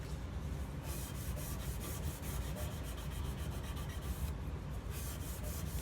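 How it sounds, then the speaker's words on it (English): A rusty metal tool surface coated in old wax buildup is scrubbed with a Boeshield Rust Free treatment, making a continuous, close, gritty rubbing hiss with quick repeated strokes throughout. "that's cleaning off the rust actually pretty well"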